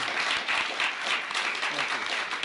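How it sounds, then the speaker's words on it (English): A White House audience gives a steady round of applause for the wife of a Commerce Department official, a dense, even clatter of many hands that holds at full strength throughout. "you could give her a round of applause"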